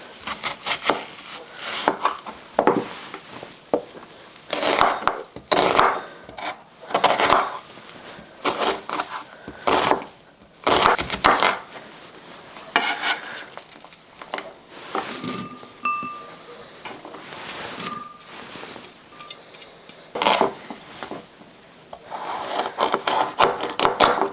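A knife chops onions and other vegetables on a wooden board for a cabbage stew, the cuts landing close and crisp in irregular bursts of quick strokes with short pauses between them. Small clinks are heard, with no talk over the chopping.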